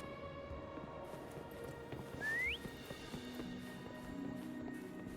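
A single rising whistle in the video game Wuthering Waves sounds briefly and clearly over quiet ambient game music, followed by soft background tones.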